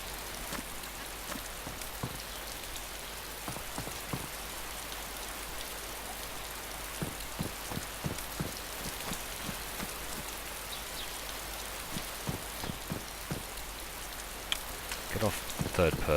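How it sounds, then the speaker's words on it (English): Steady rain in the survival game DayZ, a constant soft hiss of drops on surfaces with scattered sharper ticks and taps, heard alone at moderate volume. "Is it now pissing down with rain?"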